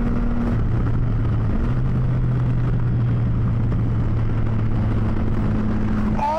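A Triumph Tiger 660 sport-touring motorcycle engine holds a steady, droning tone at speed, rising slightly near the end, with wind rush throughout and no talking.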